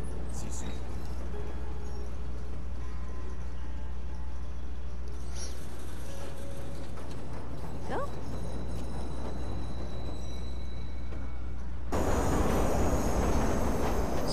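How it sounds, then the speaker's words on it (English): A train pulls into a station in the video game Watch Dogs, its deep steady rumble running the whole time and turning brighter and noisier in the last few seconds. "Southbound train, arriving shortly."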